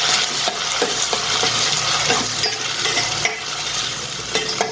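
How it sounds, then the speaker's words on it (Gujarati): Finely chopped onions fry in a pan for restaurant-style chole bhature, with a steady close sizzle and repeated soft scraping strokes of a spoon stirring them through. "2 ઝીણી કાપેલી ડુંગળી નાખીશું। હવે આને આપણે પહેલાં હલાવી દઈશું"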